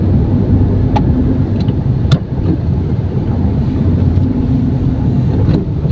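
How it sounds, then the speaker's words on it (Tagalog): Moderate road traffic along EDSA Avenue in Metro Manila, a steady, loud wash of passing vehicles with wind buffeting the microphone and a few faint sharper noises, no talking. "Medyo moderate yung traffic dito sa may kahabaan ng EDSA Avenue"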